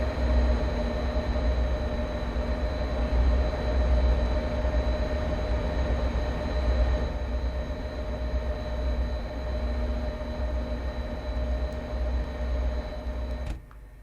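A locomotive idles and runs in the game Train Sim World 2 on a Boston route, a steady low mechanical hum with tonal whine, ending in a brief click, no voices.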